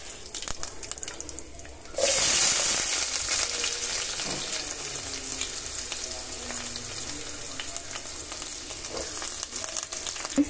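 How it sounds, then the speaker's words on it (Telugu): Onions and curry leaves hit hot oil in a pan and break into a loud, bright sizzle that stays steady and close, with a faint scraping stir now and then. "ఇప్పుడు ఉల్లిపాయలు వేసుకున్నాము, కరివేపాకు వేసుకున్నాము"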